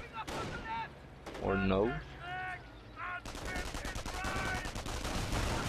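Panzerschreck anti-tank rockets and other weapons firing in a World War II strategy game match, with repeated sharp shots and bursts, a heavy rapid barrage toward the end, under a commentator's voice.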